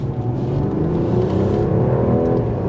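A 2024 Mercedes-Benz CLE450 coupe's inline-six engine accelerates in sport mode while merging into traffic, giving a steady, smooth, continuous drone heard from inside the cabin with no one talking.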